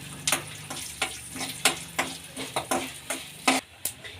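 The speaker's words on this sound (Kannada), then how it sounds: "ಇದನ್ನ ಫ್ರೈ ಮಾಡ್ಕೊಳ್ಳೋಣ ಎಣ್ಣೆಯಲ್ಲಿ ಚೆನ್ನಾಗಿ ಫ್ರೈ ಆಗಲಿ" Chillies and curry leaves crackle in hot oil as a spoon stirs with quick, regular scraping strokes against the pan, close and clear.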